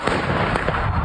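Protesters set off fireworks near a police station during street clashes with riot officers, a dense, continuous crackle of pops and bursts that fills the whole moment with noise.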